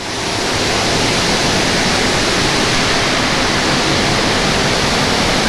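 Inside a granite factory in Kishangarh, Rajasthan, a cutting machine sprays water, producing a loud, dense, unbroken rushing hiss that fills the whole stretch without pause.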